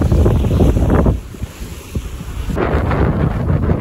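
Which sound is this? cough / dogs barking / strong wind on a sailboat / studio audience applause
strong wind on a sailboat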